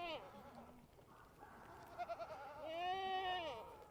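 Goat bleating on a farm where does are kidding, a few drawn-out wavering cries, the last one long and loud, over a quiet outdoor background with no talk.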